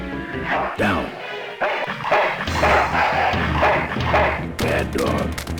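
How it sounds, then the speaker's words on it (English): A dog in the adventure game Full Throttle barking and yipping in short repeated bursts, mixed with whimpers and a thud, over game sound. "Bad dog."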